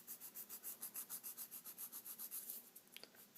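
A nail file scrapes across a thumbnail in quick, even back-and-forth strokes, close and soft with a steady rhythm, and a few small taps come at the end.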